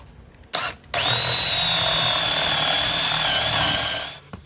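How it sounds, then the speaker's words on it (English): A power drill turns a 1 1/4 inch Forstner bit through wood for a small tool turntable cabinet. After a brief start, a loud, steady whine holds for about three seconds and then stops. "This hole right here in the center, that's going to be my 1 1/4 inch, and I have a Forstner bit to be able to take care of that hole."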